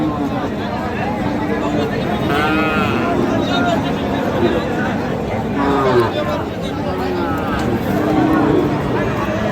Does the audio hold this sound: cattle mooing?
yes